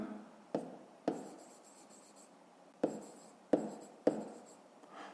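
Pen scratching on paper during a fifth-grade maths exercise, faint close writing strokes punctuated by several sharp taps as the pen touches down.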